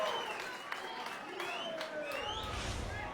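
Darts crowd at the World Grand Prix applauding and cheering steadily, a dense wash of clapping and murmuring voices heard from a distance for the whole stretch.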